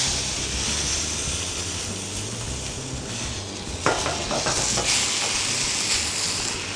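Beef fillet sears in hot oil in a restaurant kitchen, forming a crust; a loud, constant hissing sizzle fills the space, with a brief clatter of a utensil against the pan midway.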